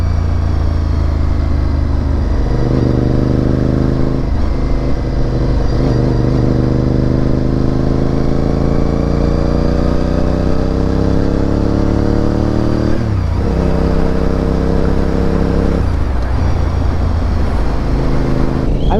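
A Honda RC51 motorcycle engine revs and pulls through the gears while being ridden, a loud, steady V-twin drone rising in pitch, dropping briefly at a shift around the midpoint, then climbing again.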